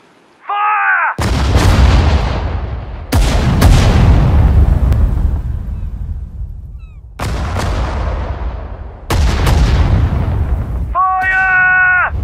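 Heavy artillery guns firing in the World War II strategy game Sudden Strike 4, in a British desert campaign in North Africa: four loud booming shots, each with a long rolling decay. Short voiced unit callouts come at the start and the end.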